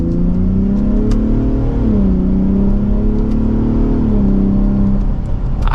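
A 2023 Ford F-150 Raptor's twin-turbo V6 pulls from second gear, a loud, steady engine drone close by whose pitch rises, dips briefly at a shift, then climbs again, with no talking.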